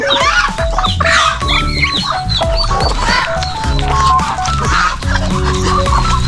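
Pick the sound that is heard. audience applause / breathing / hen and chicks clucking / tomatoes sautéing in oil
hen and chicks clucking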